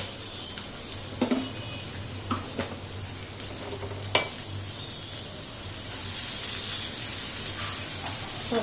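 Ingredients for an idli chutney lightly frying in a pan, a low continuous sizzle broken by a few sharp clacks and scrapes of stirring, with no one talking.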